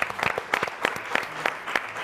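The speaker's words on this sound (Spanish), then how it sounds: "Un aplauso a nuestro colega." A studio audience on a Mexican television talk show applauds for a moment. The claps come as distinct, fairly sparse bursts at a steady, moderate level.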